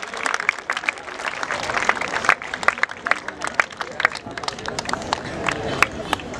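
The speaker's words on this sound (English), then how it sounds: "Keep clapping, guys." An audience at a football league awards ceremony claps continuously, dense and steady applause with sharp individual claps and background crowd murmur, while a voice talks over it.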